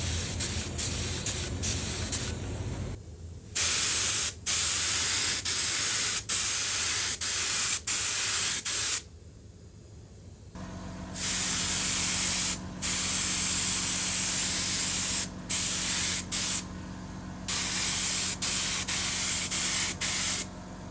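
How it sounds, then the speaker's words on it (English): Spray gun laying tinted clear coat onto a 1969 Martin D-28 guitar neck during restoration, in repeated close, loud hissing bursts separated by short pauses, with no talk. "I've sprayed some tinted clear over it"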